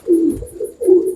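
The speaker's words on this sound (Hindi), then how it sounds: "20-25 साल का कबूतर है ये" A roughly 20-25-year-old pigeon coos close by, two soft low throaty calls with a short pause between them.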